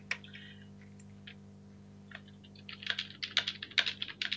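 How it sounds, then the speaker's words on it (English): Computer keyboard typing during a Minecraft UHC session, light clicks at first that grow into a denser burst of rapid keystrokes, close and clear over a steady low hum. "Are you typing?"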